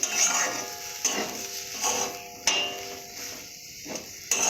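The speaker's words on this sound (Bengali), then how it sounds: "এইভাবে দু মিনিটের মতো ভেজে নেব" Banana fritters fry in a pan with a steady sizzle. Several sharp knocks and scrapes of a utensil against the pan recur.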